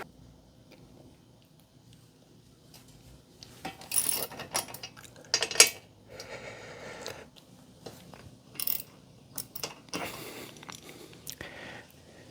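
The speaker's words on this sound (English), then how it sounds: "Once you get the mounting bolts off, the caliper just should slide right off." Brake caliper mounting bolts being loosened and removed on a 2018 Harley-Davidson Softail front brake, with scattered ratcheting clicks and metallic tool clatter in short bursts against a quiet garage background.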